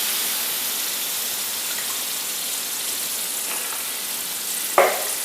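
Steady, loud sizzling of peas frying in a hot pan, with a brief clink partway through and nobody speaking.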